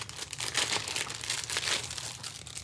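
A small plastic bag holding a guitar truss rod wrench crinkles steadily as it is handled close up, a continuous soft rustle with no talk.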